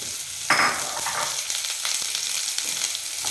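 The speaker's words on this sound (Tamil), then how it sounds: "பிரண்டையை எப்பொழுதுமே நல்லா வதக்கிடுங்க." Adamant creeper (pirandai) and tamarind sautéing in hot oil in a pan, giving a steady loud sizzle with a sharp stirring scrape near the start and a few faint stirring knocks, with no talk.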